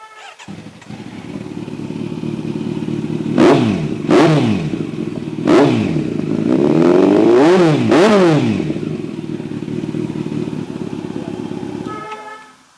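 A sport motorcycle with a custom exhaust idles with a deep, loud exhaust rumble, then several sharp throttle blips rev up and fall back close by, with a longer roaring rev near the end.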